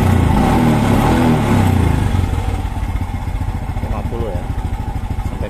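A carbureted Honda Supra X 125 motorcycle engine runs loud and close, revving hard for about two seconds before dropping to a steady, pulsing idle; no one speaks during it.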